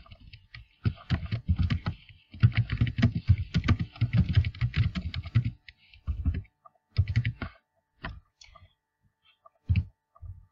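Computer keyboard keys click in quick bursts of typing with short pauses between, recorded up close while editing text in Photoshop.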